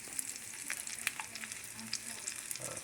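Onions sizzle and crackle in a hot skillet for a patty melt, a steady quiet frying hiss dotted with small pops and light stirring, heard alone without talk.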